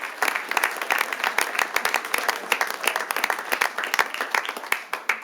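Scattered hand clapping from a modest audience at a city council meeting award ceremony, steady and fairly close, with individual claps distinct rather than a dense roar, tapering off near the end.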